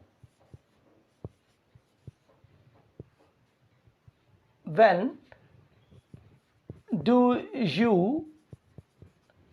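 Someone writes a sentence on a board, producing sparse, faint taps and scratches in a quiet room, with a lecturer speaking in between.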